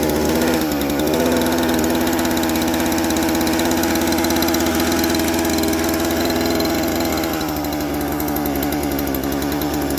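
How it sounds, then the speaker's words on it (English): A motor idles steadily while warming up at a tiny-house build site, a continuous loud rough drone with a buzzy chainsaw-like tone that holds even for the full stretch, slightly easing near the end, with no talking. "To give the motor a chance to warm up."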